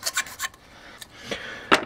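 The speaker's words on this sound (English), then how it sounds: "I'm going to file this thing down just a little bit more than this." Hand file rasping against a plastic Raspberry Pi case, several short scraping strokes in quick succession followed by a few spaced single strokes, close and moderately loud with quiet gaps between.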